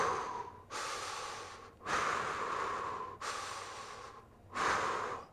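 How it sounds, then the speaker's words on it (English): Slow, deep breaths during a core exercise come close and clear, alternating long inhales and exhales in a steady rhythm of about four breaths, with no talk. "Let's breathe through it"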